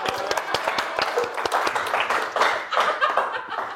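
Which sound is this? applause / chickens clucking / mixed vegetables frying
applause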